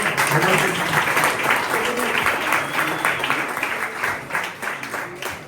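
An audience applauds at a keynote event, a dense wash of clapping that holds steady and then slowly thins toward the end.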